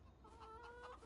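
Farm chickens in Farming Simulator give a short burst of soft, close clucking with a faint farmyard background behind it.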